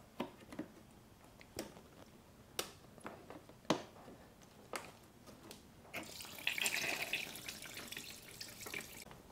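Coolant drains from a 2017 KTM engine into a funnel, heard as quiet dripping and a thin trickle, with occasional soft knocks. Toward the end the flow swells into a fuller splash.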